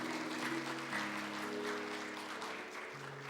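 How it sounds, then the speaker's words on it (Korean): A church congregation applauds to congratulate a new member completing a six-week newcomer program during a Korean worship service, a soft, even clapping wash with sustained organ or keyboard tones beneath. "박수로 우리 축하해드리겠습니다"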